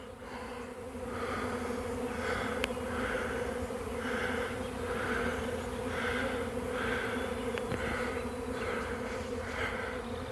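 A large honey bee swarm drones steadily around a tree outdoors, a loud, continuous buzz from many bees with a faint pulsing rise and fall and no voices.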